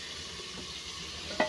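Potatoes fry in a pan in a home kitchen, giving a soft, steady sizzle at low level throughout, with a brief clink near the end and no talk.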